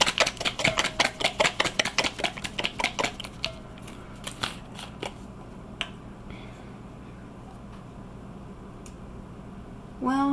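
A bottle of colored cocoa butter shaken hard, a fast run of close rattling knocks in quick rhythm for several seconds, then a few scattered taps and quiet.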